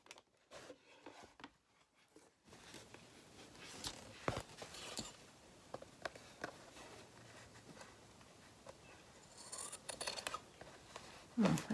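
Scissors snip through material in a steady series of crisp cuts, close by, with soft rustling and handling noises between the strokes.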